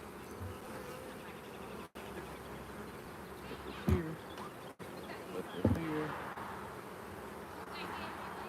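Honeybees buzzing steadily around an old, worn hive box during an inspection, a close, continuous insect drone with a couple of brief louder thumps or movements near the middle.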